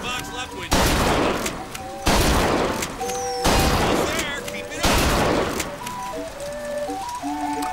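Gunfire in the video game Bioshock Infinite: loud repeated bursts of shots in quick succession, several heavy blasts spaced a second or so apart, over game music tones and a voice talking.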